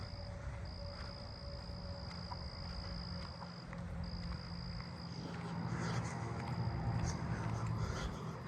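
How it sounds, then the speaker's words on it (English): A southeastern field cricket trills loudly and steadily at night in a residential neighbourhood, a near, high continuous chirp with one short break, over a low bed of other insect and frog sounds. "Then a loud southeastern field cricket."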